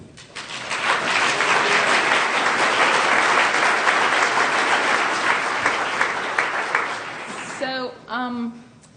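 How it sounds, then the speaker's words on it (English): An audience gives a sustained round of applause for children at an art gallery opening, dense clapping swelling up and holding for several seconds before tapering as a voice speaks. "Big applause to kids."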